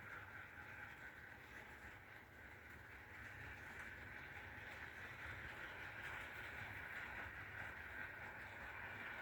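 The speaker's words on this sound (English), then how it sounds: "One of these can pull this train of coaches no problem at all." Model steam locomotives double-heading a train of passenger coaches run steadily along a layout and through a tunnel, a continuous rolling rumble with faint rail clatter, close and even, no voices.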